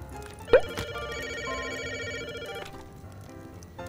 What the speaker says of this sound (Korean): 전화 오셨는데요?